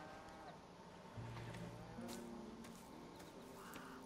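Cattle low on a farm in the video game Red Dead Redemption 2, a few drawn-out moos at a moderate distance over a quiet outdoor ambience.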